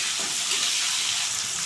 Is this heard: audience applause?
no